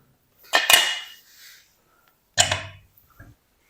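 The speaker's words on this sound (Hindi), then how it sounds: "अब हम खोल के चेक करते हैं" A pressure cooker holding steamed chicken is opened after its pressure has been released: a metallic clank and scrape as the lid is worked loose, a short pause, then a second clatter and a small knock.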